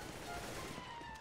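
Rapid gunfire bursts from the video game Counter-Strike: Global Offensive, a continuous dense crackle of shots filling the whole moment at steady loudness, with no one speaking.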